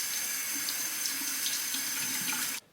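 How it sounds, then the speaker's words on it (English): Warm water runs from a tap over a shaving brush, soaking its bristles, a steady close hiss and splatter that cuts off abruptly at the end. "I'm going to take the brush. I'm just going to run it under the warm water"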